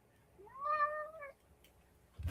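A pet cat gives a single clear, rising-then-falling meow indoors, close and fairly soft, followed by a brief rustle.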